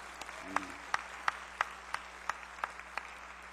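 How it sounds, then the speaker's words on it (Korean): Sparse, evenly spaced claps ring out in a Korean church service as a congregation applauds a women's mission group, each sharp clap distinct at a moderate distance. "일단 힘차게 박수 한번 드립시다."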